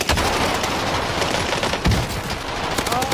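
Rapid gunfire rattles in the Rebirth Island video game, a dense run of close automatic shots with one heavier burst partway through, no voices over it.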